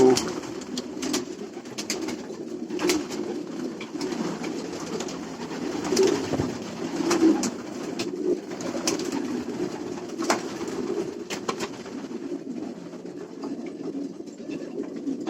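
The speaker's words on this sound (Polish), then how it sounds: "To są gołębie lotowe." Racing pigeons coo steadily in a low, continuous murmur, a flock close by with soft overlapping calls and occasional wing flutters or scuffles.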